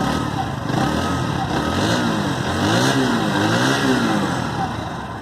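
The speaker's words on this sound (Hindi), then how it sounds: "अब बजाज NS 125 का एग्जॉस्ट नोट भी सुन लेते हैं" A Bajaj Pulsar NS 125 motorcycle with an underbelly exhaust is revved up close, its engine note rising and falling in repeated swells over a continuous running hum.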